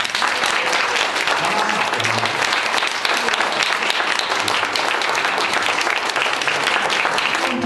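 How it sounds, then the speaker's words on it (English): A large conference audience at an AGC event in Minneapolis applauds steadily and loudly for the whole stretch, a dense continuous roar of clapping with no pause. "bring forward with a round of AGC applause, Ron Henderson."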